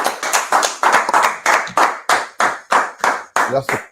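A small group claps in a steady, evenly spaced rhythm at a close, loud level for about four seconds at a talk on household leadership, with a brief voice near the end.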